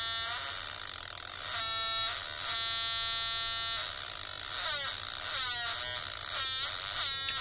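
An Atari Punk Console kit synthesizer gives off a harsh electronic buzzing tone in repeated bursts, its pitch sweeping and stepping as the controls are turned. Faint background sound lies underneath.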